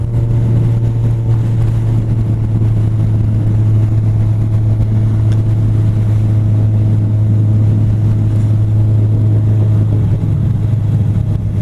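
A Kawasaki Z1000 motorcycle rides at about 50 mph near 3,500 RPM with a loud, constant engine drone and heavy wind rush, keeping one steady pitch with no clear gear change.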